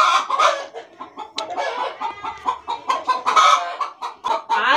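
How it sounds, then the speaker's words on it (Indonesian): A hen clucks loudly and excitedly after laying an egg, in rapid, repeated squawking bursts, close by, with no pause throughout. "Ayam bertelur satu biji, heboh satu"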